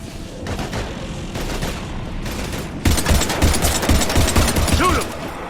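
Heavy video-game gunfire in a combat scene against Husks, with sustained bursts of shots that grow louder and denser partway through, mixed with booms and battle noise.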